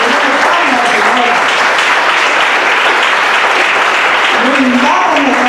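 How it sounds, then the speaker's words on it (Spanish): A church congregation clapping together, a dense and steady roar of applause that stays loud for the whole stretch, with voices calling out over it. "Démosle palmas al Señor."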